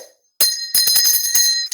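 A bell rung sharply twice, ringing out in a classroom with a bright metallic tone and a brief shimmering ring, loud and close.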